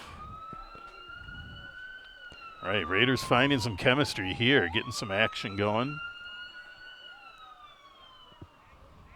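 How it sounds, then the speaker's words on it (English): An ambulance siren wails steadily as it drives past a roadside high school boys soccer game, clear and fairly close, sweeping in pitch, while a commentator talks over it. "Ambulance driving by."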